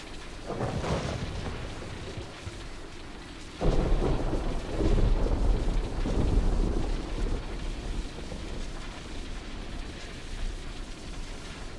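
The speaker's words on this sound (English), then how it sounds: "Oh, I hear like thunderstorms." Thunderstorm during the Fortnite sandstorm event in-game: loud rolling thunder cracks and rumbles over steady rain, with a sharp heavy clap early on followed by long rumbling swells, no voices.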